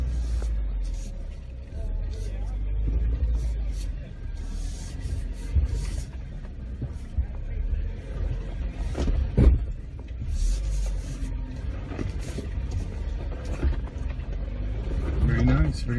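A 2018 Jeep Wrangler crawls off-road over rocks in southeast Texas, its engine a low, uneven rumble with scrapes and knocks as it climbs, mostly under people talking nearby.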